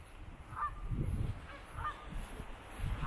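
Geese honk several times in irregular bursts at Cossington Lakes, moderately distant, over low outdoor rumble and no talk.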